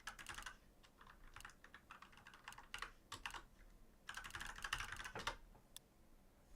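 Typing on an American-layout computer keyboard, quiet close clicking keystrokes in irregular bursts with brief pauses between them.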